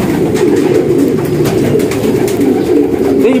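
Dense, steady cooing of many pigeons fills a pigeon loft, a continuous overlapping murmur of close calls with no talk.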